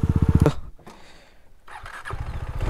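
A KTM Duke 390 motorcycle engine chugs with a fast, throbbing idle, cuts out into near quiet for about a second, then the pulsing engine sound returns close by.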